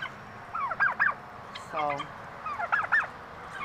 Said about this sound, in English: I love the sound of turkeys.